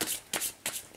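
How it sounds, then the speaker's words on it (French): Oracle cards being shuffled and drawn for a tarot-style reading, three quick crisp riffling bursts in a steady rhythm, close and clear with no talking. "On va tirer 3 cartes du Béline pour voir ce qu'elles nous disent."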